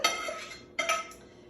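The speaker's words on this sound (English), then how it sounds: "I'm going to scrape those in with the green beans because all this is going to get mixed together before it goes in the oven" Cooled garlic scraped with a utensil into green beans in a glass bowl, two short clinking scrapes close by, with quiet room tone between.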